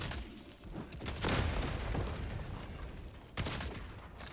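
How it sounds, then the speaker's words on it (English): Rapid automatic gunfire from a Gatling Barrage stratagem in Helldivers 2, fighting Automaton bots, comes as a dense, loud rattle with two heavier bursts of impact and an explosion amid constant battle noise. "Gatling Barrage."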